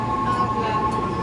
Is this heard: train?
yes